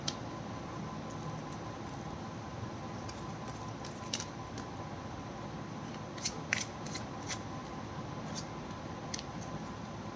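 Tarot cards riffled and shuffled by hand, a light papery patter of quick ticks and flicks over a steady hiss, close and fairly quiet.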